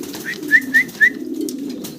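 Fancy pigeons on a farm coo in a low, steady murmur, with three short, bright calls rising above it in quick succession.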